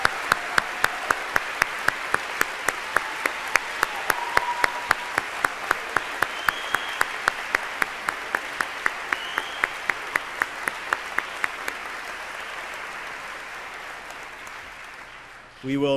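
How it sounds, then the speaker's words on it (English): A large audience applauds the 2012 graduating class at the Maxwell School MPA convocation, a dense, sustained wash of clapping that holds steady for most of the stretch before thinning out near the end. "how about one last round of applause for the 2012 graduating class?"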